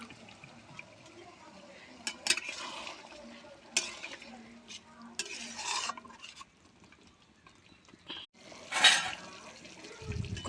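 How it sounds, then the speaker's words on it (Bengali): Warm water poured into a chicken and spinach curry cooking over a wood fire, heard as splashy bursts and scraping stirs that come and go against a low background hiss, fairly close. "আমি সেখানে উষ্ণ জল 1 বাটি মতন আমি দিয়ে দিচ্ছি।"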